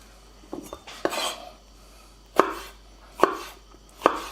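A knife chops tomatoes on a board for guacamole, with a cluster of quick cuts followed by three evenly spaced sharp chops, close and distinct, with light clatter from the board and utensils.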